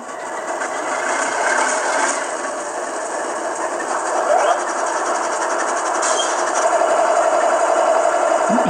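Model train locomotive with a sound unit firing up in a rail yard setting, giving a steady, fairly loud mechanical chug and rattle with ticking, ratchet-like texture throughout, no talking.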